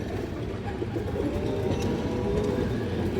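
Low, rolling coos from a stone-eyed loft pigeon repeat softly over a constant rumbling background, with no speech.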